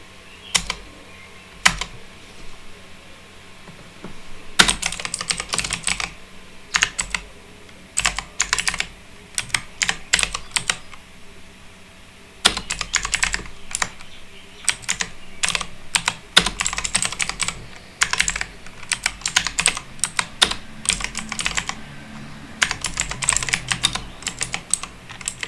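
Rapid bursts of computer keyboard typing while writing code, close and crisp clatter in uneven runs separated by short pauses, with no talking.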